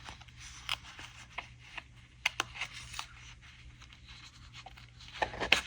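Paper planner inserts are cut out by hand, with soft, scattered snips and crisp paper rustles at close range, a few sharper clicks rising toward the end in a quiet room.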